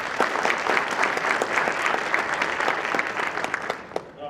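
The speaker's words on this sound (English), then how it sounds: "So a round of applause for both of them." Audience applause at a high school National Honor Society induction ceremony, a dense crowd clapping steadily for about four seconds before tapering off to a few scattered claps at the end.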